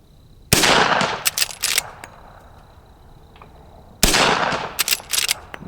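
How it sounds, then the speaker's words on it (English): A Henry Big Boy Steel .357 rifle fires two loud, sharp shots a few seconds apart. Each crack is followed by a quick clatter and ringing echo, with the range quiet between them. "let's just shoot up here right now"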